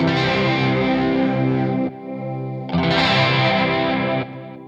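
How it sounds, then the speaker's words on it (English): Two sustained electric guitar chords through a Lekato Cube Baby modeling pedal shimmer with a warbling chorus effect and some distortion, separated by a brief quieter chord. "I believe that's like a chorusy sound"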